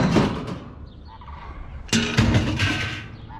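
A crane gives loud, harsh honking calls in short bursts, with a quieter stretch of distant calls in between.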